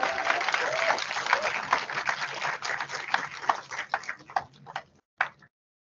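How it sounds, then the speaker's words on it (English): Audience applause for students at an awards ceremony, many hands clapping at a moderate distance, thinning toward the end into a few scattered claps before dying out. "A huge round of applause for all the students presented with a certificate of achievement here."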